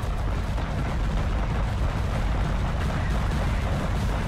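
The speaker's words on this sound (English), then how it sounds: "I love the explosion on buildings." Loud, continuous rumbling explosions from buildings being blown up in the video game Total Conflict Resistance, a dense, steady roar with heavy low-end boom throughout and no speech.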